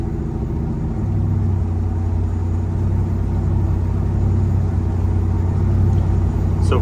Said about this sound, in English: you can get an idea of the sound inside the truck